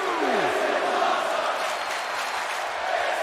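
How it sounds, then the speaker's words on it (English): A wrestling crowd at an XFW Ground Zero event roars in a dense, sustained wash of cheering and chanting, steady and loud throughout, with a descending whistle-like tone sweeping down at the start. "The crowd in attendance now with a "This is awesome" chant as these two continue to battle."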